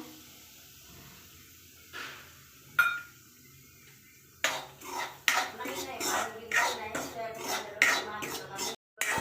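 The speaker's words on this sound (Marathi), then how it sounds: "एक चमच तूप आणखी टाकूया आपण आपण रवा भाजून घेऊया" Semolina roasting in ghee in a pan, heard as scattered metal spoon scrapes and clinks against the pan, growing busier and rhythmic in the second half, with a brief throat-clearing-like sound early on.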